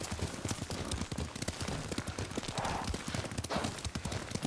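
Steady clip-clop of horse hooves at a quick riding pace in the video game Ghost of Tsushima, loud and close, with faint ambient sound behind.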